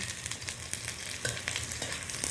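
Chopped garlic and cumin fry in a pan while being stirred, a quiet, continuous sizzle broken by light scraping strokes, with no one speaking.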